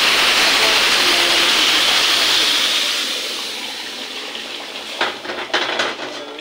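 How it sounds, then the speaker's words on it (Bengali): Hot water poured into a pan of green chilli curry, a loud steady rushing pour that gradually softens, followed by a few clinks of utensils near the end. "পরিমাণ মতো জলটা দিয়ে দেবো"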